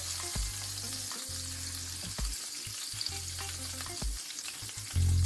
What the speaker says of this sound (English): I'm going to add a teaspoon of crushed garlic. And I'm going to allow it to fry just for a few seconds.